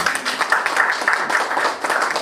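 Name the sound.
audience applause for Papa Thomas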